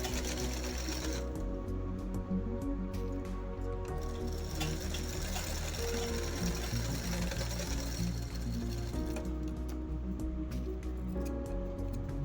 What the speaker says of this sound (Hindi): डोरी को अंदर डाल के हमने ट्रायंगल करके सिलाई लगा ली है।